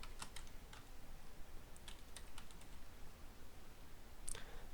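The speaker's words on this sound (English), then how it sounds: "so then you just type Resample here, then type the file name" Quiet computer keyboard typing: a command and file name being entered, with scattered clicking keystrokes in short bursts, close and faint.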